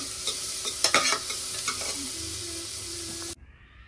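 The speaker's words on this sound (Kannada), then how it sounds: "ಒಂದು ಈರುಳ್ಳಿ ಹಾಕಿಬಿಟ್ಟು ಫ್ರೈ ಮಾಡ್ಕೋಬೇಕು." Onion sizzles steadily while frying in a pan for chicken gravy, with a spoon stirring and scraping through it in a few sharp clicks, close and alone until the sound cuts off abruptly.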